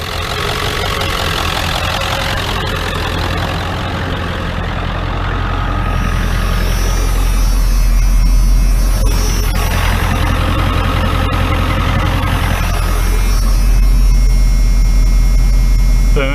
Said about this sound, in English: then it idles perfect as soon as I unplug the ICP.